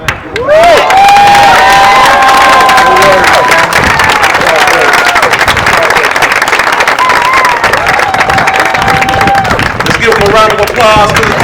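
A crowd at a Black Lives Matter rally in Albuquerque bursts into loud, sustained cheering and applause. Dense clapping mixes with shouts and whistles right up close.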